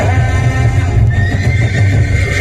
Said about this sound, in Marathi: सह्याद्रीच्या खडे कपारीतून घोड्यांच्या टाकाचा आवाज एकच साथ घालतोय